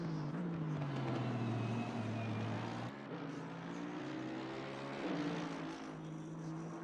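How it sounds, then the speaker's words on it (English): V8 race cars, Aston Martins and Mercedes, in a racing sim at Suzuka, with steady engine drone and shifting pitch as cars come past, sustained and moderately loud, with no talk over it. "You gotta also love the sounds of the almighty V8s, the Astons and the Mercs as they come past."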